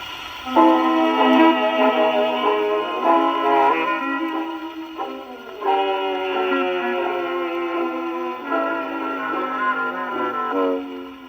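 A worn record plays on a 1921 Victor Victrola VV-50 phonograph with damaged grooves, giving sustained, brassy musical tones in steady phrases with short breaks, fairly loud and alone.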